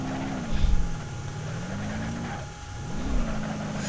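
A mini monster truck in BeamNG Drive drives along with a steady mid-pitched engine drone that swells as it revs up, dips briefly, then climbs again, loud and alone with no talking.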